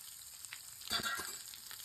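Onions drop into hot coconut oil already crackling with mustard seeds and curry leaves, a faint low hiss that swells into a brief louder sizzle midway.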